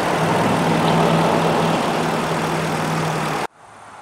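A Ram 1500 truck's 5.7 liter V8 engine idles with a steady low hum and a broad, even rumble, then cuts off sharply near the end.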